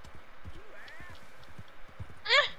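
Horse hooves clip-clopping in a video game, soft rhythmic steps running under quiet talk, ending with a brief louder whinny-like cry.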